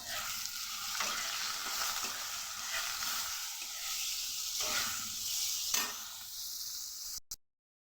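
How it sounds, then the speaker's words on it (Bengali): Potatoes fry in a pan with salt and a little turmeric, giving a continuous close sizzle broken by a few scraping stirs of the spoon before it stops. "আলুটা ভাজা হয়ে গেছে।"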